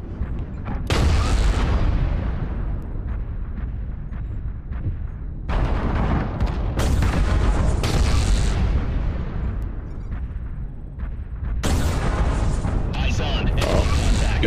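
Airstrike explosions in a mech combat video game: repeated heavy booms and rumbling blasts fill the stretch, with a voice talking over them.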